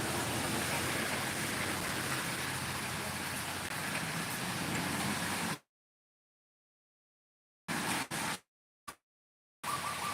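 Steady rain pours down continuously for about five seconds, a dense even hiss, then cuts off abruptly, leaving a few brief bursts of the same downpour in the remaining seconds.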